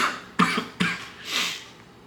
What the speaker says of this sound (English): man, this cough is getting bad.